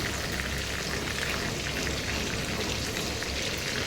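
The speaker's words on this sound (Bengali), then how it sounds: "আমার রোস্টটা ভাজা হচ্ছে এই যে আমি একটু লাল লাল করে ভেজে নিতেছি" Pieces of roast meat browning in a pan, a steady, dense sizzling hiss that runs unbroken and fairly loud throughout, with no voices.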